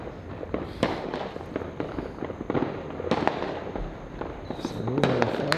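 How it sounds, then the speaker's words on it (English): New Year fireworks in Jamaica crackle and bang in irregular bursts, a mix of sharp near pops and rumbling distant blasts with continuous crackling between them, plus faint background voices. "Some beautiful fireworks here."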